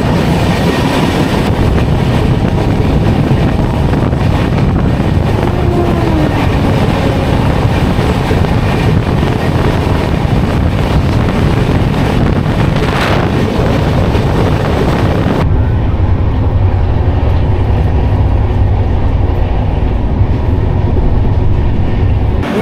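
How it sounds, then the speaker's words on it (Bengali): The Dhauli Express train rolls into Bhubaneswar station, a loud rumble of wheels and carriages with wind buffeting the microphone, the roar dropping sharply as it slows near the end. "এই মুহূর্তে আমাদের ট্রেন এসে পৌঁছালো উড়িষ্যা রাজ্যের রাজধানী ভুবনেশ্বরে"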